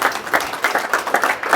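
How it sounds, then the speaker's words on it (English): An audience claps through a short burst of applause at a talk on the 30x30 land policy, a dense steady patter of many hands at moderate volume with no voices over it. "Yeah, that deserves a clap."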